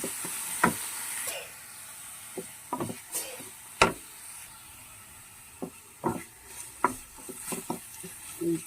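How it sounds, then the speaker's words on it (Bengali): Coriander leaves frying over medium heat as they are stirred in a pan, a quiet steady sizzle punctuated by irregular sharp scrapes and taps of the spatula, close by. "আমি ধনে পাতাটাকে ভেজে নেবো আর একটু ভাজা হবে এটা"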